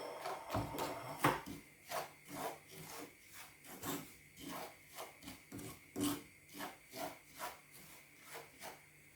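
Semolina dry-roasts in a hot pan while a spoon scrapes and stirs it in steady, rhythmic rasping strokes, close and fairly quiet with no talking.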